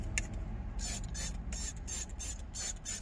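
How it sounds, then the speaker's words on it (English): Repeated spray bottle squirts misting water onto hair before a haircut, about seven quick hissing bursts in a steady rhythm, close and fairly loud over a low background rumble. "The first thing we're gonna need is a spray bottle."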